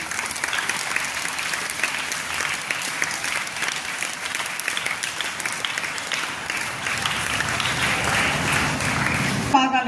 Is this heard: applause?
yes